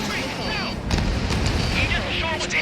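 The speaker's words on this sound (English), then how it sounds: "That aircraft emitted all that anti-air fire?" Anti-air fire from enemy ships in Ace Combat 7, a continuous stream of rapid booming flak bursts under a steady roar, with radio chatter and voices speaking over it.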